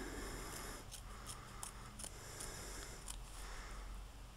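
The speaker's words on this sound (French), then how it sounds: "on va couper ce qui dépasse du cadre sur le jaune" Scissors snip paper trimmed from a scrapbook frame, a series of quiet, crisp cuts in an irregular rhythm over a faint background hum.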